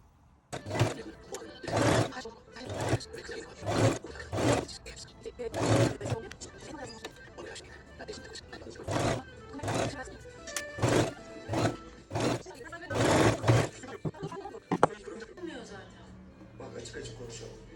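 A sewing machine stitching a laced V-neck on a blouse runs in a dozen or so short, loud, rhythmic bursts separated by brief pauses, close up and fairly harsh.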